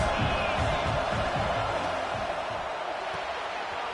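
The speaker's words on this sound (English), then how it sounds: "This crowd trying to make life miserable for this offense." A football stadium crowd roars continuously, a dense, loud wall of cheering and noise during an offensive play, with a commentator talking over it.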